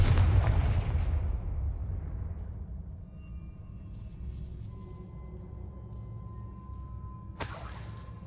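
A loud, close blast from the Confringo fire spell in Hogwarts Legacy, a broadband burst that decays over a few seconds into a low, steady game ambience, with a sharp crackling hit near the end.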